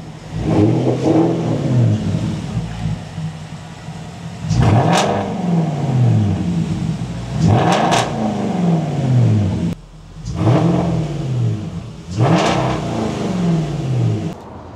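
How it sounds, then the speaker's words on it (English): Porsche Cayenne S 958 with its mufflers deleted, revved while parked: four loud, close blips rising sharply and falling back to a rumbling idle between them. "This is just the muffler delete. Just the muffler delete. Let's hear some revs."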